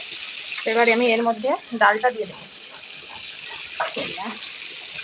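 Soaked chana dal poured into hot fried goat fat, a watery splashing rush followed by sizzling, partly under a spoken voice.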